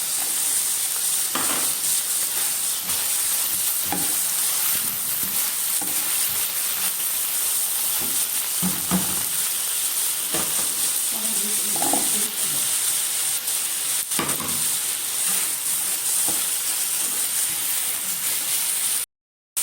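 Chicken liver and gizzards sauté in a hot pan with garlic, a loud, constant sizzle and crackle running the whole time, with occasional stirring scrapes and no talking.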